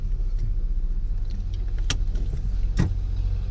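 Car on a mountain road in Uttarakhand pulling off onto the unpaved roadside, a steady low engine rumble with a couple of brief sharp clicks or rattles over it.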